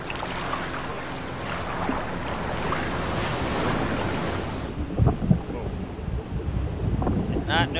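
Ocean water and tide in the video game The Solus Project, a loud continuous rush of surf and wind that cuts to a muffled underwater tone with a few bubbling gurgles.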